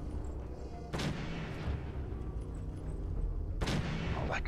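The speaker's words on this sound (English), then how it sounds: "See if I can get a headshot on him." A musket-type gun fires in Fallout 4 survival play, two sharp loud shots a few seconds apart over a steady game ambience.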